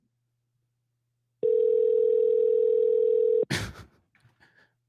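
A phone call to a Chick-fil-A restaurant produces one steady, loud tone lasting about two seconds, followed by a short burst of clicks and rustle.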